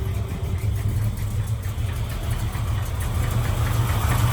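A 1983 Chevrolet C10 V8 with an LT4 cam, headers and an Edelbrock carburetor, idling with a steady lumpy low rumble, close and continuous, no talk.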